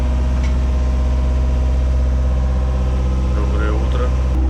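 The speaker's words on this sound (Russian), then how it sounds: "На моторе с Геной." A Hallberg-Rassy 382 sailing yacht motors along, its inboard engine giving off a steady, deep drone that runs unbroken and close throughout, with faint higher noises flickering above it.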